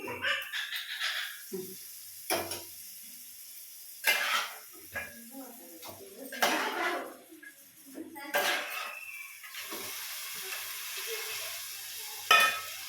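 Hot oil sizzles while tempering spices are stirred before adding washed mutton, with bursts of scraping and crackling. Voices talk intermittently over the cooking.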